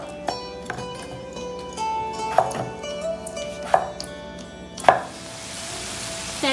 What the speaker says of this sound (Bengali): আমার বর তো এভাবে আলুটা কেটে নিচ্ছে